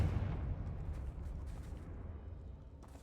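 A Confringo fire spell blasts in Hogwarts Legacy near a damaged bridge, a loud low boom right at the start that rolls into a long rumbling tail fading over a few seconds, with no talk.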